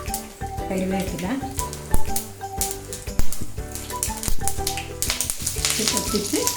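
Mustard seeds, dried red chillies and curry leaves spluttering in hot coconut oil in a pan, a busy crackle of close pops and sizzle with occasional clinks of a utensil, no talk.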